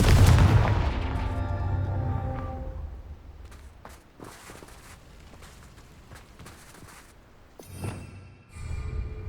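A Confringo fire spell from Hogwarts Legacy bursts loudly at the start with a booming blast and tonal ringing, decaying into scattered crackles and thuds, then a second sharper impact near the end.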